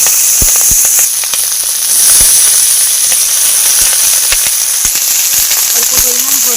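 Onion stalks and potatoes fry in hot oil in a kadai, giving a loud, steady sizzle with scattered sharp pops and crackles throughout.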